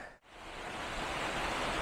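A small waterfall with low flow on the North York Moors near Goathland gives a steady, fairly quiet rushing hiss with no voices.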